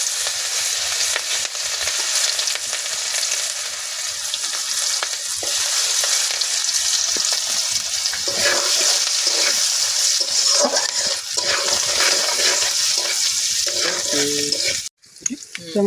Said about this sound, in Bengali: তো আমার পেঁয়াজ ভাজা হয়ে গেলে